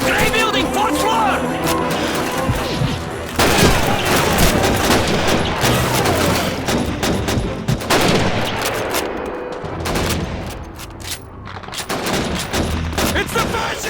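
MG42 machine-gun fire and scattered rifle shots crack loudly and almost continuously through a Stalingrad street battle in Call of Duty 2, with booming impacts and shouted voices mixed in.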